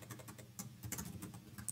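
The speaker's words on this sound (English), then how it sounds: "I will just type like" Quick bursts of keystrokes on a computer keyboard while building a React Native news app, soft irregular clicks close to the mic, with no talking.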